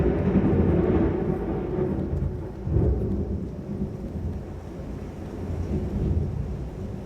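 Thunder rolls through a storm in a sustained, loud rumble with heavy rain beneath, swelling again near the end with no voices.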